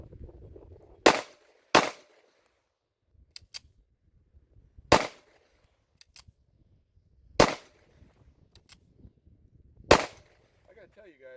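Springfield Prodigy 9mm pistol firing hollow point rounds, five sharp, loud shots spaced a couple of seconds apart, with faint handling clicks between them.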